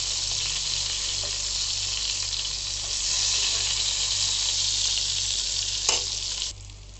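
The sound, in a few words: eggplant slices frying and sizzling in a pan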